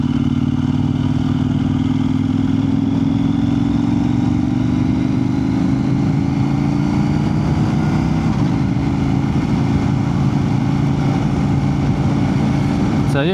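A motorcycle ridden in Queensland by a rider on a newly earned R licence, a steady engine drone and road rumble running continuously at close range with little change throughout.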